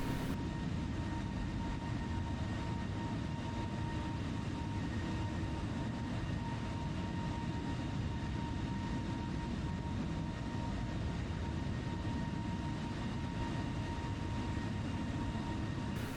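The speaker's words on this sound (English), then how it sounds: "Resuming replay, we can review our takeoff roll from any other viewpoint." An airliner rolls down the runway for takeoff in Microsoft Flight Simulator, heard as a steady, dense engine roar with a faint constant whine, unbroken for the whole stretch and without any voices.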